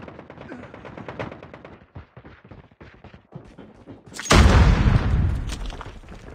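Hostile sentry gun firing in a video game, a loud sustained burst of rapid automatic fire erupting after a stretch of quieter rhythmic game sounds.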